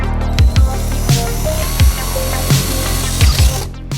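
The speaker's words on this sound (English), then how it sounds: "I need to make a hollow in this wood till this line, but not a hole. Let's try with my drill." Power drill boring a hollow into a piece of wood, with short bursts of whirring and grinding pulses repeating every half second or so, each punctuated by low thumps, loud and close.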